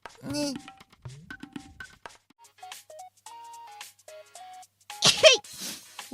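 A young woman sneezes once, sharp and close, after soft speech and light electronic beeps; a voice is heard talking before it.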